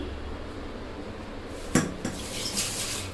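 Yogurt being added to liver in a pot and stirred, with a sharp metallic clang of a spoon against the pot partway through, then a softer knock and scraping against a quiet background.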